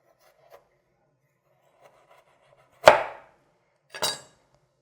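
A knife slices through a partly frozen tomato resting stem side down, giving two short crisp cuts about a second apart, with faint small taps beforehand.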